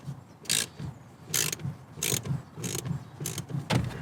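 Quarter-inch ratchet working a tight fastener inside a Ford Focus: bursts of rapid pawl clicking, about six short runs with brief pauses between, close and fairly loud with no talking.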